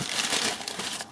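Close, continuous crinkling and crumpling of packing paper, rustling loudly with no voices.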